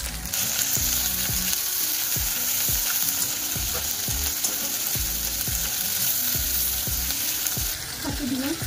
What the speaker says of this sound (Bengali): এদিকে মাছ ভাজা হচ্ছে, এখানে ভাজা হয়েছে 3 পিস, আর এখানে 5 পিস মতো ভাজা হচ্ছে।